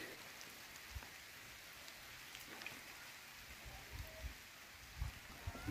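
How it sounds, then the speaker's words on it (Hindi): Steady rain patters down continuously in Mukteshwar, a soft broadband hiss with occasional heavier drops and low rumbles, no voices. "इस समय फिर से बारिश शुरू हो चुकी है"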